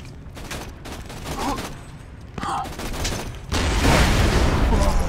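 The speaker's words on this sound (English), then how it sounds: "Oh god, did we just double rocket launcher him?" Two rocket launchers firing and exploding in Borderlands 2, a few sharp bursts building into a loud sustained roaring blast at the end, with voices talking over it.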